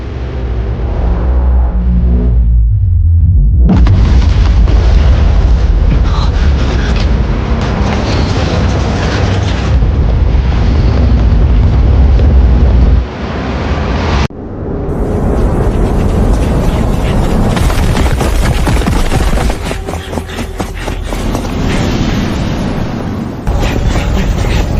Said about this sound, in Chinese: 爆炸造成的伤害